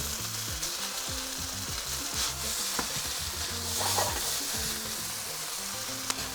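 Chili, garlic, ginger and spring onions stir-frying in a hot pan, a loud continuous sizzle with scraping and tossing and a few sharp clinks of utensil on metal, no voices.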